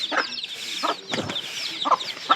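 Two young chicks peep and cluck in short, separate bursts over a soft, steady background of high chirping, fairly close and moderately loud, with no voices.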